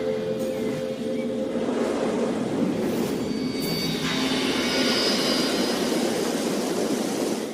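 Aircraft flight in the video game Edge of Reality: a steady, loud engine drone with a rumbling low hum and a faint high whine, continuous and close, no talking.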